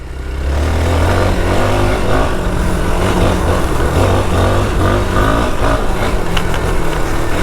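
Hero XPulse 200 4V motorcycle engine running steadily and loudly while being ridden, a continuous close engine drone with slight throttle variations throughout and no talking.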